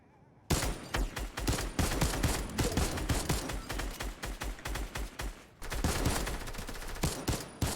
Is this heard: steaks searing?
no